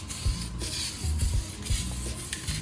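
Walmart sparkle spray paint hisses from a can in a steady, continuous spray lasting a couple of seconds, close and fairly loud over a low rumbling background, with no talking.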